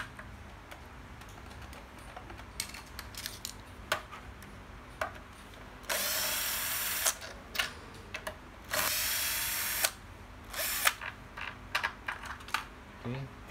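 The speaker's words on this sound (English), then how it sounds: "Right, so just unscrew that metal brace. Just long screws extend from the bottom to the top." Work on a ZERO 8 electric scooter's metal brace, with small metallic clicks and taps from backing out long screws, plus two longer bursts of loud buzzing from a power driver, close up under low background noise.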